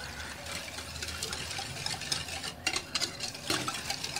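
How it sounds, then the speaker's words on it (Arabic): Starch and a spoonful of other ingredients being stirred cold in a pot for a quick no-oven dessert: a steady scraping swirl of a spoon against the pot, close and continuous, with a few firmer knocks near the end. "كل ده هقلبه كده على البارد"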